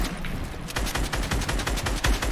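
Rapid gunfire from the video game Free Fire, with dense overlapping shots crackling in a continuous, loud volley across the whole stretch.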